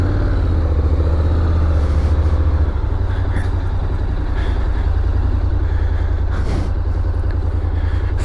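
A Honda NC750X motorcycle pulls away with a loud, steady engine drone close by, its pitch shifting as it gets moving, with faint wind and road noise on top.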